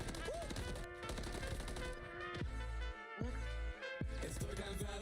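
Rapid AK rifle bursts crackle in Call of Duty Warzone, several automatic volleys in quick succession with brief gaps between them over dense in-game background sound.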